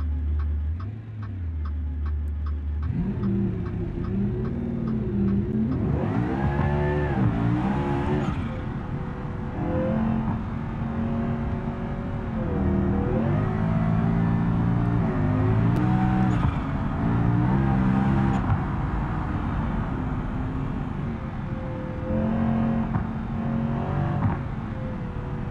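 An Ikarus 280 articulated bus driving in BeamNG Drive, its engine droning steadily and loudly throughout, rising and falling in pitch as it accelerates and shifts, with a ticking indicator at the start.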